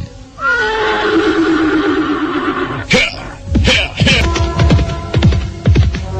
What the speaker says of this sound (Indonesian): Ken Arok berkuda meninggalkan Tumapel